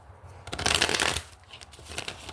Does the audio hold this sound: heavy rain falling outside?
no